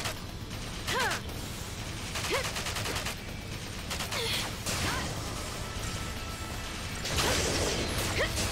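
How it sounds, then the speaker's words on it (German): Cannon bombardment in a Final Fantasy 13 battle, a steady roar of game sound carrying repeated booming blasts and crashing impacts with fast rattling bursts throughout, loud and continuous. "Ich wünschte, ich könnte irgendwas gegen das Bombardment machen."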